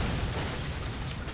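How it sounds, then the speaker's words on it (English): A big explosion in Halo 4 roars as a dense, sustained blast of broadband rumble and crackle, loud and close, filling the whole moment without any voices. "Whoa, we got a big explosion."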